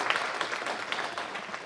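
An audience at a city council meeting applauds for a young speaker, a short burst of dense, moderately loud clapping from a room of people that stays steady and then tapers at the end.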